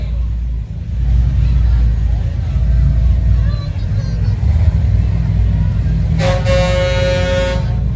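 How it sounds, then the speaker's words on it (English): An antique Ford pickup truck rolls along in a Christmas parade, its engine a steady loud rumble under crowd noise, with a horn tooting near the end. "Then we got us representing an antique pickup truck."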